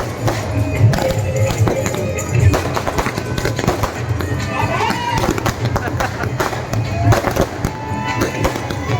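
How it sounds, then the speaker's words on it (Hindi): Fireworks at a night religious gathering, a rapid string of sharp crackling bangs and pops over a dense background of crowd noise and voices, loud and continuous throughout. "बढ़िया आतिशबाजी यहाँ पे होते"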